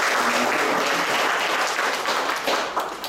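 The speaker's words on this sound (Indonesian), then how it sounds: "Kita berikan aplaus dulu untuk Dr." An audience at a health talk on dementia gives Dr. Bella a round of applause, steady, loud clapping from many hands that fills the room for the whole moment.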